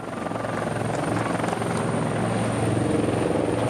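Helicopter rotor thudding steadily overhead while filming a cycling race, the Tour de Pologne stage from Łańcut to Rzeszów; a loud, continuous chop with no talk.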